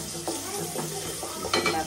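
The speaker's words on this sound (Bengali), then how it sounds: "পাতিলে তেল দিয়ে দিছি। এখন রসুন আর পেঁয়াজ দিয়ে দেবো।" Garlic and onion hit hot oil in a cooking pot for tempering, crackling and sizzling in short bursts alongside light stirring, close and fairly quiet.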